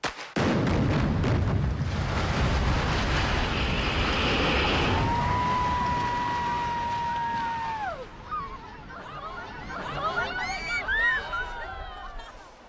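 A tower block brought down by explosive demolition: a rapid volley of sharp blasts, then a long heavy rumble of collapse, later giving way to whistles, crowd noise and excited talk.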